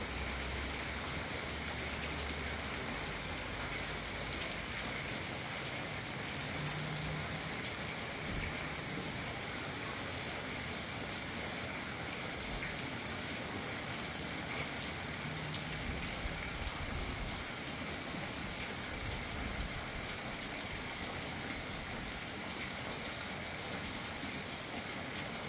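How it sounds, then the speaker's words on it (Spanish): Rain falls in a steady, even hiss for about half a minute, soft and continuous, with no voices and no distinct drops standing out. "Miren, está lloviendo."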